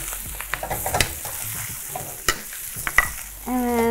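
Prawns tossed and frying in a hot pan with chilies and curry leaves for a Singapore zi char dish, a steady sizzle with stirring scrapes and clinks throughout, close and loud, with no talk.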